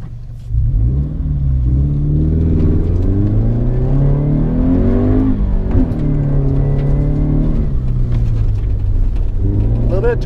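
A Subaru BRZ engine revs on a dirt rallycross course, close and loud, rising and falling in pitch as the car accelerates and shifts, with a faint whirring of drivetrain underneath.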